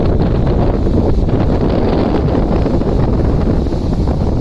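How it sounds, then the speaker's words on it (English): Loud, constant wind buffets the microphone with heavy low rumble beside a canal lock on the River Calder, Yorkshire, steady throughout with no pauses. "And it's bloody windy."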